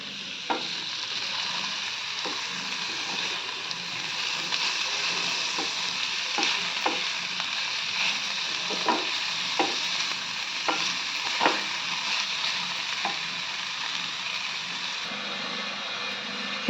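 Tomato pieces fry in a pan with a steady close sizzle, punctuated by regular scraping taps of a spoon stirring, continuous and without speech.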